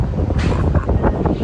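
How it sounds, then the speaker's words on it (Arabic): Strong gusting wind buffets the microphone at the seaside on a stormy day, loud, rumbling and uneven over a short stretch with no speech. "سامعين صوت الهوا"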